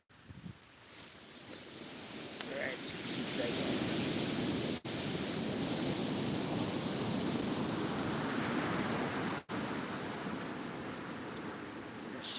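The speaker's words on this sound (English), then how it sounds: "they've got to be up high to avoid those waves that are crashing" Ocean waves crash onto the shore in a steady, loud roar of surf that swells and holds without pause.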